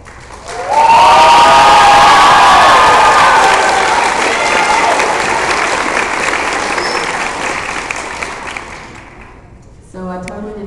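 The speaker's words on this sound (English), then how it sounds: "Can we give a big round of applause to Nicola?" A big convention crowd erupts in loud applause and cheering with high shouts at an anime convention opening ceremony, sustained for about eight seconds and then fading before a voice starts speaking.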